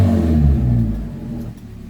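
A Fiat 147 engine revs hard through a homemade exhaust cut-off valve, a loud, close, continuous low rumble and roar that holds steady before easing slightly near the end.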